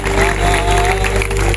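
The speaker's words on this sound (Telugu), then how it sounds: "ఒకసారి చప్పట్లు కొట్టాలి అందరూ కూడా" Audience applause at a Maha Padi Puja (Ayyappa devotional gathering) on Bypass Road, ODF Colony, Sangareddy: steady, dense clapping over a sustained droning tone, loud and continuous throughout.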